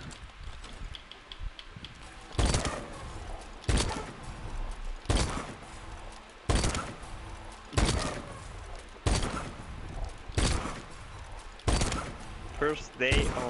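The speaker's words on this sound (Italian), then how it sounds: "faccio due spari con check" Sharp video game gunshots on PS4 crack out one at a time at a steady pace, about ten in all, each ringing briefly over a low background, with some voice mixed in.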